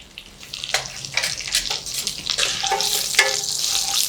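Turmeric powder frying in hot oil with green chana dal and curry leaves for brinjal rice, a steady close sizzle with brief stirring scrapes, no talk.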